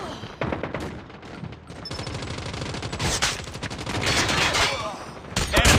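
Rapid bursts of video game gunfire crackle in close, loud volleys, overlapping and continuous with brief gaps, with a little game voice chatter mixed in.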